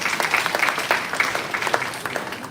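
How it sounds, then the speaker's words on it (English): Audience at a university event applauding a chief guest, a sustained patter of many clapping hands at moderate loudness, with individual claps standing out now and then and no speech. "Please give a big round of applause for sir"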